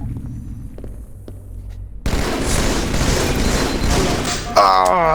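Burst rifle fire in a Halo 2 one-on-one match: a quiet stretch, then loud, dense overlapping gunfire bursts that run to the end, with a sharp rising tonal effect in the last moment.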